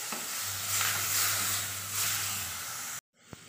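Tamarind water poured into a simmering coconut milk fish curry, a steady loud sizzle and hiss with stirring, then a sudden cut to quieter bubbling near the end.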